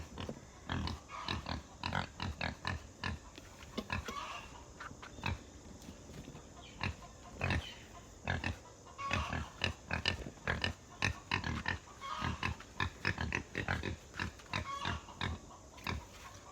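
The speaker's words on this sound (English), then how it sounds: "Good pig, pig, pig." Pigs grunting and oinking on a farm during morning chores, a dense run of short, close snorts and grunts repeating in rapid uneven bursts throughout, with no talking.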